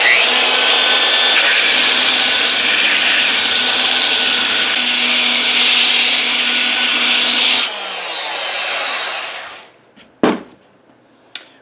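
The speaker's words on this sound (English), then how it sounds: "I can start belt sanding this" A belt sander working across a wooden guitar body, a loud, steady, high-pitched whine and grinding that runs for about eight seconds, then winds down and stops, followed by a few sharp knocks.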